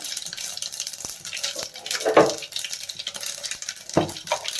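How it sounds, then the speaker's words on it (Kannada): Mustard seeds for tempering a buttermilk sambar crackle and pop in hot oil in a pan, with light scattered sizzle, a few sharper spatters and the clink of a spoon stirring. "ಒಗ್ಗರಣೆಗೆ ಸಾಸಿವೆ ಸಹ ಹಾಕ್ಕೊಳ್ತಾ ಇದ್ದೀನಿ"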